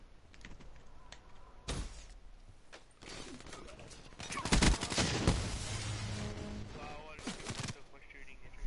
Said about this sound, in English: I put like a million bullets into that